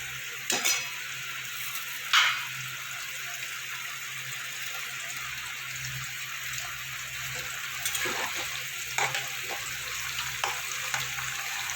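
Chopped tomatoes frying with onions, turmeric and salt in a pan for a rohu fish curry give a steady broadband sizzle, with a few sharp clinks of a spoon against the pan and stirring scrapes scattered throughout.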